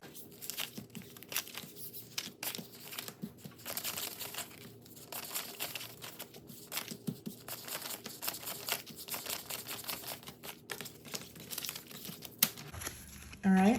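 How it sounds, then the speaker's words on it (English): Paper cash bills are handled and counted by hand, giving a long run of crisp crinkles, flicks and soft rustles at close range, with brief pauses between bursts of handling. "So now let's go ahead and count the cash."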